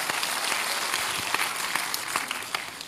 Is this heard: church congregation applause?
yes